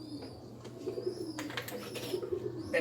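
Racing pigeons coo softly at a breeder's loft, a low repeated murmur of a few faint calls against quiet background noise with light rustling, and no talk.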